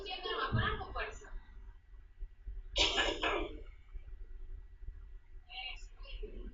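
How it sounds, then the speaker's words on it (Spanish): A patient coughs forcefully during a water swallow test for dysphagia, two or three harsh separate cough bursts spaced a few seconds apart, close and clear, with faint murmured speech between them. "Sigue tosiendo nomás, con algo fuerza."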